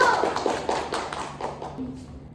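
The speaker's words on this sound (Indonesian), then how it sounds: "Oke, tepuk tangan dulu" A group of children in a classroom claps hands together in a quick, even burst of claps close by, fading toward the end.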